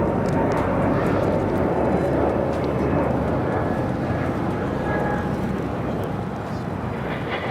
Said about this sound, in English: Delta 767 coming in from JFK.